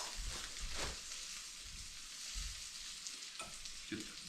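Peppers and onions sizzling in a hot pan on the stove, a steady close frying hiss with soft scraping stirs now and then, no voices.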